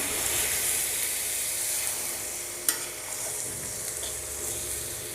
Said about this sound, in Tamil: ஸோ மஞ்சத்தூள் சேர்த்து நல்லா கலரிக்கலாம்